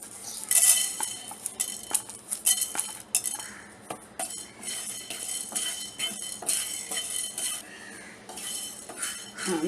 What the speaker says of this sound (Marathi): आता हे तवा तापलेला आहे, मी प्रथम यामध्ये मिरी टाकते